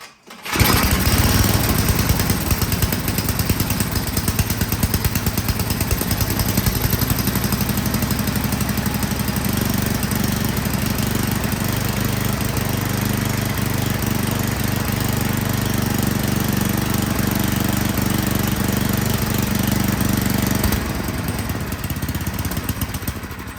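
A Tecumseh engine on an Ariens snow blower runs steadily at full throttle after a pull start, a loud, close, continuous mechanical drone that holds for about twenty seconds, then shifts tone near the end.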